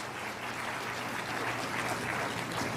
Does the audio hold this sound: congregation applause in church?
yes